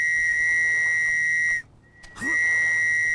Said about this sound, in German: Ich pfeife dir ins Ohr